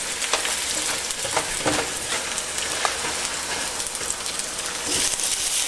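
Marinated mutton for rezala is stirred in a hot pan, making a dense, continuous sizzle with scattered crackling pops and soft scraping as the mixture is turned.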